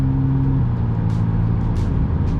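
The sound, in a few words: McLaren Artura hybrid engine restarting after electric mode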